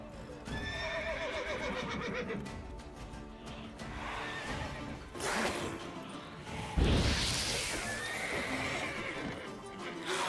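A horse in The Witcher 3 neighs and whinnies, with hooves clip-clopping and swooshing combat noises around it, including a sharp crash near the end. The sounds are fairly close and fill the scene, with no talking.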